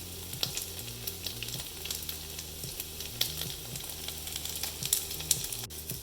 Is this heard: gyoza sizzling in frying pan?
yes